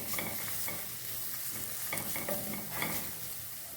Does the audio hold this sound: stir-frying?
yes